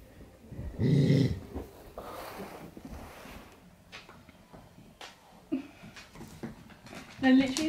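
A dog pants and gives short whimpers up close in a domestic setting where a new puppy is being introduced, with breathy snorts and small whines scattered through and people talking in the background.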